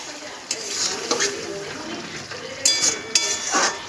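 Spoon stirring a pan of mixed vegetable curry just sprinkled with roasted ground spices, with soft scraping and a few sharp clinks of utensil against metal pot, moderately close over a low background hiss.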